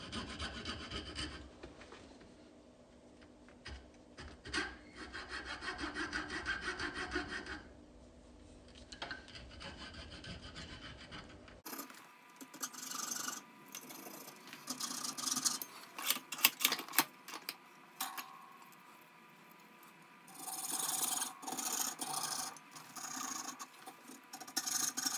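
A hand saw rasps back and forth into a wooden sword blade, cutting to blade depth, with steady rubbing strokes in bursts and short pauses, close and fairly loud with no talking.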